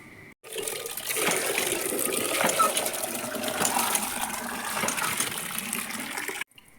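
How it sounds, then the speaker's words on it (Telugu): Water from a hand pump gushing and filling a container, a steady splashing flow that runs for about six seconds before stopping abruptly. "నీళ్ళు కొట్టుకొని వెళ్ళాలి."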